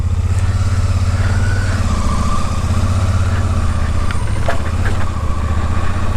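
A Royal Enfield Shotgun 650 motorcycle rides along the road, its engine a loud, steady, close throbbing rumble with wind noise over it.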